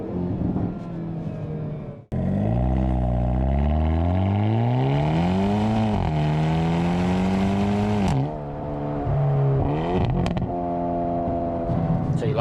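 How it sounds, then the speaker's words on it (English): A 2021 Hyundai i30N Premium DCT in its sporty mode accelerates hard, its exhaust note climbing loudly through rising revs with crisp upshifts and a brief crackle on lift-off, heard from inside the cabin. "So you like the exhaust note in this car?"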